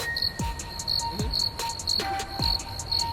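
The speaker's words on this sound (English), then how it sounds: "You can't give me crickets" Crickets chirp steadily in short repeated trills, a clear insect sound effect playing alone with no voices, loud and close.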